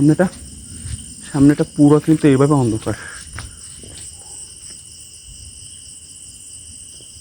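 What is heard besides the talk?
crickets chirping at night on a dark village road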